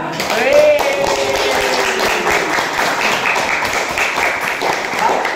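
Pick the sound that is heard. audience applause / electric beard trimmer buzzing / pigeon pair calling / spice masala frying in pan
audience applause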